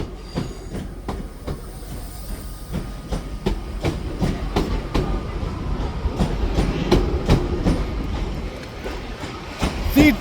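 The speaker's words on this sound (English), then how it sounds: "here we have a terminating Northern service from Crewe, 323 323" Northern class 323 electric train terminating at Manchester Piccadilly, wheels clicking over rail joints in a steady, repeated clatter, loud and close, with faint talk in the background.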